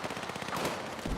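A KV9 submachine gun fires in Battlefield 6, a rapid, steady burst of closely spaced shots, loud and near, lasting just over a second with no talking.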